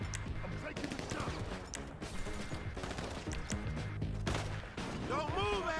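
Gunfire crackles in Grand Theft Auto V Online during a casino heist shootout with soldiers rappelling from helicopters, repeated loud bursts of shots over game music and effects.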